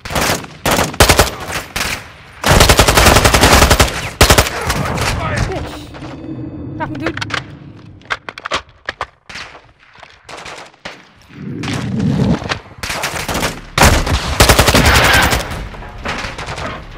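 Bursts of automatic gunfire and scattered single shots in Modern Warfare II combat, loud and close, with lulls where a voice shouts orders.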